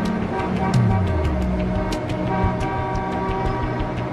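Dense American commuter traffic rumbles steadily while car horns honk, one long, falling blare early on, with further short toots over the continuous road noise.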